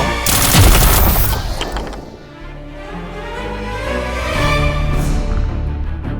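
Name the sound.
rifle gunshot in audio drama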